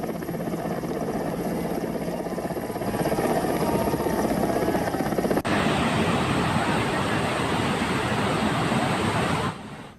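An Indian Air Force rescue helicopter flown in from Raipur gives a loud, steady rotor and engine roar that runs without a break, shifting abruptly in tone about halfway through.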